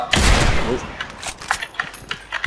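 Gunshots in the video game Special Force 2: one heavy, booming shot opens the clip, then a series of lighter, sharper shots at irregular intervals, close and loud, with a voice talking over them.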